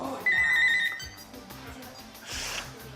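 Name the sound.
telephone ringing for an incoming call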